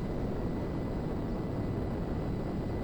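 Lazer jet fighter from GTA V in steady flight, a continuous broad roaring engine rumble that holds at an even level for the whole stretch, with no talk over it.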